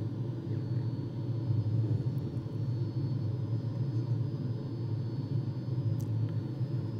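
A Fouga jet engine roars at full throttle during a climb, a heavy, continuous low rumble and whine heard from inside the cockpit, steady and loud throughout with no talk.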